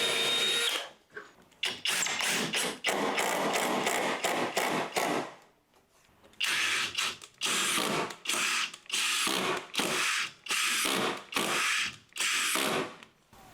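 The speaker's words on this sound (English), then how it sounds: "I still want to go through with my drill, pre-drill a few holes, and we're going to get some screws in there" A cordless power drill pre-drills a few holes in a door jamb for screws while an internal door is hung, loud whirring bursts in repeated on-off pulses with short pauses between.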